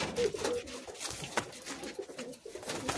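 Madrasi pigeons, a short-bodied breed kept as a pair, give soft repeated coos up close amid a steady hum of background noise.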